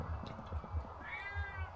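A hungry cat meows close by at a Kintamani glamping spot in Bali: one drawn-out, rising-and-falling cry lasts about half a second over a low background murmur.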